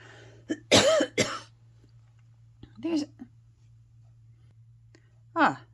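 Several sharp coughs come in a cluster, a double burst followed by quieter throaty hacks after pauses, close to the mic over a low steady hum.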